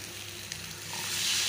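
Masala for egg biryani is stirred and sautéed in oil, giving a brief, close sizzle that swells louder toward the end.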